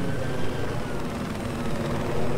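Helicopter in the Battlefield 4 video game flies with a steady, loud rotor thrum and engine roar filling the whole moment, no voices over it.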